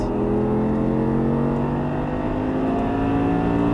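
An Audi R8 on a race track accelerating hard out of a braking zone, a loud, close, sustained engine roar with rising harmonic pitch as the revs climb, steady throughout and with no talking.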